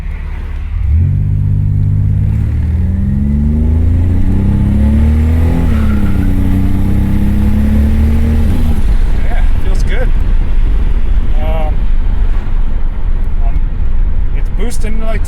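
A 1987 Buick Grand National with a new turbo and a shift kit accelerates hard from a standstill, its loud engine climbing through the revs, dropping on the shift, then climbing again before easing off into road rumble.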